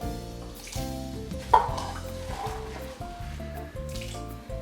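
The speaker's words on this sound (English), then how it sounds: "and stir it all up again." Mexican chicken filling is stirred in a crockpot with soft scraping and sloshing, a brief louder knock partway through, and a steady hum underneath.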